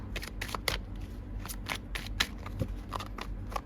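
A tarot deck being shuffled and cards drawn: a run of crisp riffling snaps and flicks at an uneven rhythm, close to the microphone over a steady low background hum, with no talking.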